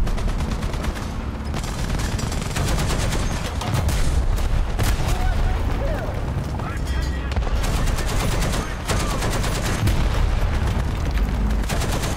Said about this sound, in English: Getting pelted by my machine gun and it was taking damage.